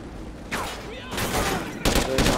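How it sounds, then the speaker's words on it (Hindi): Gunfire in the video game Call of Duty: Ghosts, with several sharp bursts of shots and rapid fusillades in quick succession over about two seconds, loud and close. "तो यहाँ से गोलियां आ रही हैं"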